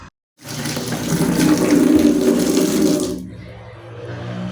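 Hot water gushes steadily from a tap into a sink for about three seconds, loud and close, then cuts off abruptly, leaving a quieter trickle.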